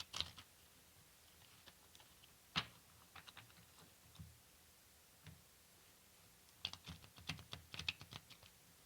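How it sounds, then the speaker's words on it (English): Soft, quiet riffling and tapping of tarot cards being shuffled, coming in scattered bursts with brief pauses, close up and without any talking. "I'm going to try and shuffle a little more."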